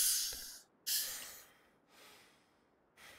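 Heavy, ragged breathing of a frightened character in The Long Dark, three or four loud hissing breaths and snorts close up, separated by short pauses.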